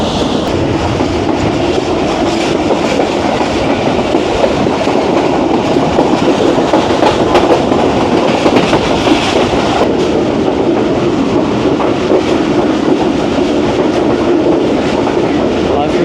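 The Jaffar Express passenger train runs on rails through Punjab, a loud, continuous rumble heard from close by with steady clickety-clack of wheels and occasional metallic rattles throughout.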